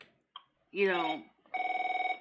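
A phone rings with a rapid, buzzing electronic trill that pulses about a dozen times, following a short spoken exclamation and a brief earlier chirp.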